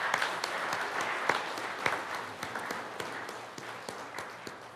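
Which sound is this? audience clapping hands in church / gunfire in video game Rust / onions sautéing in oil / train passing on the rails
audience clapping hands in church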